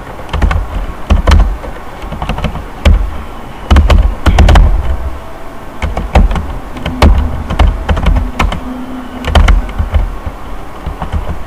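Keys clatter on a computer keyboard while someone types in Microsoft Word, irregular close taps and bursts with short pauses, loud and alone with no talk over them.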